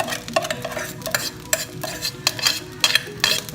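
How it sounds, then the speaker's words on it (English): Rice being stirred into a hot pot just used for cooking egg, for home-style hibachi; brisk repeated scrapes and clinks of a utensil against the metal over a light frying sizzle, close and fairly loud. "At this point, you add the rice to the pot you just had the egg in."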